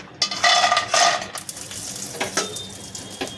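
Grated carrots for carrot halwa sizzle and are stirred in a pan, with bursts of frying hiss, spatula scrapes and light clinks of metal, close and fairly loud.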